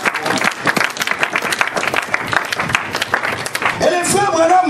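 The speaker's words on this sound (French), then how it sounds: "Quelqu'un peut acclamer le Seigneur Jésus-Christ" Church congregation bursting into loud, sustained applause to acclaim Jesus Christ during a French-language sermon, dense clapping filling the room, with voices rising among the crowd near the end.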